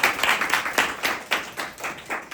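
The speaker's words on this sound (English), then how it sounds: "ladies and gentlemen, please round of applause" A small audience at a talk claps close by, a few seconds of brisk, fairly sparse handclaps at a quick, uneven rhythm.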